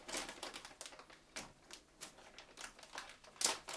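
Crinkling and rustling of a Uniloo disposable bag as its edge is folded up, close and fairly quiet, with soft irregular plastic crackles.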